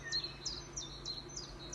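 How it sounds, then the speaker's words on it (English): Several birds chirp outdoors in short, high bursts that repeat every half second or so, faint against a steady low background hum. "At the moment, I can hear the birds chirping"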